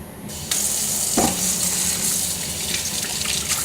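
Tap water runs steadily into a kitchen sink as onions are rinsed for a homemade Italian tomato sauce, a continuous close hiss with a brief splash, and no voices.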